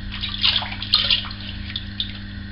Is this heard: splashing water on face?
yes